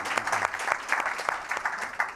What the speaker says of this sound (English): So round of applause for him as well.